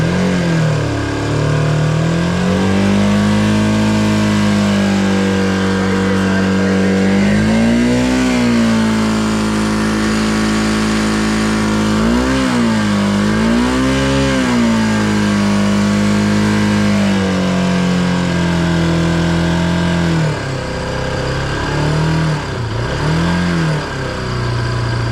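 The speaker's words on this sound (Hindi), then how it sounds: "अभी मैं आपको स्टार्ट करके बताता हूँ। तो गाइज़ अभी आप सुनना कि कितनी कुछ साउंड आती है।" A Bajaj Pulsar RS200 motorcycle engine starts and idles loudly with a steady low rumble, and the throttle is blipped several times, each rev rising and falling.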